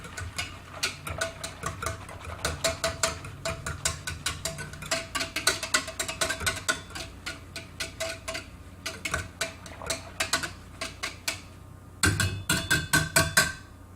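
A small whisk mixes ingredients in a bowl, producing rapid, irregular clicking and tapping against the sides, dense and continuous with a louder burst of strokes near the end, no talking.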